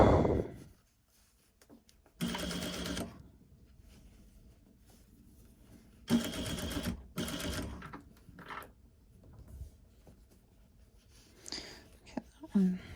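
Sewing machine stitching back and forth over the elastic on a fabric face mask, two short rapid bursts of needle clatter separated by quiet handling, with someone talking softly nearby.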